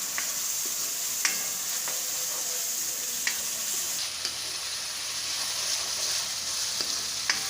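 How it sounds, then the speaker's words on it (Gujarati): Onion, ginger and garlic frying in oil, a steady even sizzle with occasional light ticks from stirring, the hiss shifting slightly partway through, no speech. "ડુંગળી ને આદુ ને લસણ ને બધું આપણે ઘડીક વાર તેલમાં સડવા દેશું"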